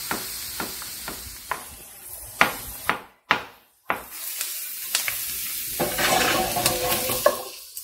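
Onion softening in hot oil in a pan, a steady sizzle broken by sharp knocks and scrapes of a utensil against the pan, loud and close.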